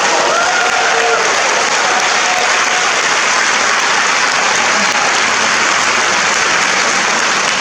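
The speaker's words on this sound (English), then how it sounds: "please give them another round of applause" Loud, dense sustained applause from an opera house audience at a curtain call for Les Contes d'Hoffmann, an unbroken roar of clapping filling the hall throughout.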